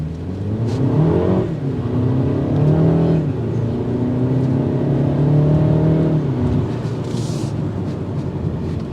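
A 2023 BMW 228i Gran Coupe in sport mode accelerating through the gears, a steady loud engine drone heard from inside the cabin, rising in pitch, dropping at the shifts, then climbing again.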